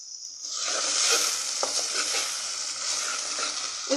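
Potato and bell pepper fry in a pan with chili, turmeric and salt, a steady loud sizzle with spoon scraping and stirring throughout and no talk.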